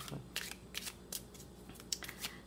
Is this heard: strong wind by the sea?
no